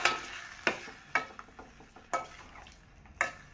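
Ghota fruit mixed into a dish in a pan, a spoon scraping and clanking against the metal in several separate strokes, close with a faint sizzle underneath and no talking.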